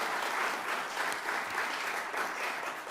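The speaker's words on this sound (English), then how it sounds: "I think we should give them all one more round of applause for their wonderful work" Steady applause from an audience at a pro bono awards ceremony, honoring clinic volunteers, with many hands clapping in an even, moderately distant wash.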